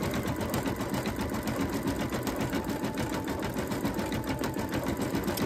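An embroidery sewing machine stitches lace with a loose bobbin jumping around, a fast steady rattling chatter that runs close and continuous with no pauses.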